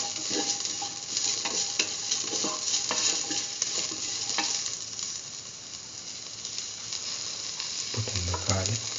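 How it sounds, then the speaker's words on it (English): Potato and cucumber stew mix sautéing in a pan, a steady loud sizzle with continual scraping stir strokes throughout, no talking. "Saute mix."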